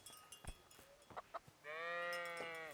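A sheep in the video game Kingdom Come Deliverance gives one drawn-out, wavering bleat after a few soft thuds and clicks, loud and close with no talk over it.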